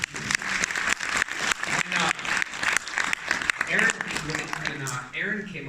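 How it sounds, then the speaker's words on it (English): Crowd applause at a comic convention panel, steady clapping heard beneath and between continuous amplified talk from a man on stage. "I want a round of applause for that."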